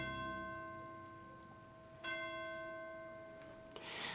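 Orchestral chimes imitating a distant church bell, with soft, quiet strikes a couple of seconds apart, each leaving long, ringing overtones that hang and slowly fade.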